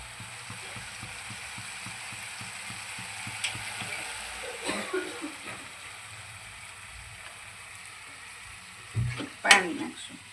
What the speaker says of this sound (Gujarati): તો તેલ છૂટું પડી ગયું સરસ સરસ મજાનો વઘાર થઈ ગયો. હવે ચણા ઉમેરશું અંદર.